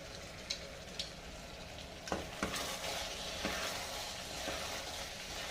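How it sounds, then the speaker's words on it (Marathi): A Bhogi mixed-vegetable dish for Sankranti sizzles softly in a pan as it is sautéed, with faint spoon taps early on, a few firmer stirring scrapes midway, and a steady low frying hiss throughout. "आता छान परतून घ्यायचं आपली भाजी चमचमीत होण्यासाठी"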